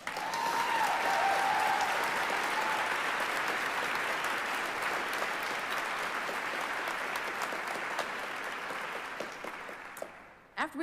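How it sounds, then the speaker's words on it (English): Sustained applause from a large crowd at a high school commencement ceremony, loud and steady for about ten seconds before tapering off abruptly. "I think they should get like 5 more rounds of applause."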